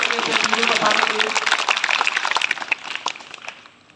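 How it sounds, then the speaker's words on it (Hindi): Applause breaks out at a government school event, a dense patter of clapping hands mixed with voices that thins out and fades over a few seconds. "जोरदार तालियां एक बार सबके लिए अपने से बताने के लिए"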